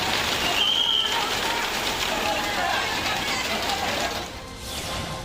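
Heavy monsoon rain in South Gujarat falls in a dense, continuous hiss and patter over waterlogged ground, broadband and steady throughout, with a brief tonal whine near the start.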